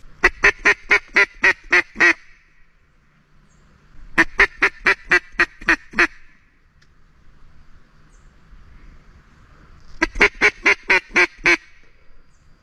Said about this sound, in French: Il y a une canne qui me répond un peu plus haut. Et d'ailleurs une canne colvert qui doit être posée à quelques centaines de mètres plus en amont.